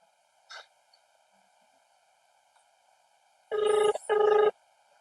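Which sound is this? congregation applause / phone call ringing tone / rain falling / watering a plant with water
phone call ringing tone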